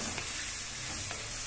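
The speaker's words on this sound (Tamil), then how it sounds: "லிவர் பார்த்தீங்கன்னா அந்த ஆயிலே நல்லா ஃப்ரை ஆகிட்டு இருக்கு." Chicken liver fries in hot oil with a dense, steady, bright sizzle that fills the whole short stretch, close and loud with no voices.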